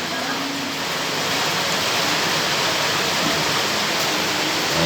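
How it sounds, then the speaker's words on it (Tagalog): Rain falling steadily while a pot of sopas de bola soup cooks, a dense, even hiss of drops spread across the whole stretch with no clear individual hits. "Naririnig niyo yung patak ng ulan mga boss."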